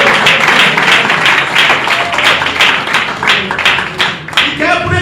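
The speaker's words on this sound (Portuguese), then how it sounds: "Palmas para Cristo Jesús" Church congregation at a missionary sermon clapping in praise of Jesus, a loud crowd of hands beating in a fast, uneven rhythm that fills the space, with a few shouts mixed in.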